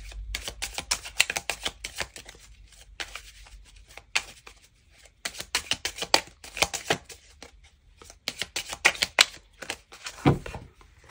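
Bursts of rapid riffling clicks as a deck of playing cards for a 32-card fortune-telling spread is shuffled and cut, close and crisp, with short pauses between runs.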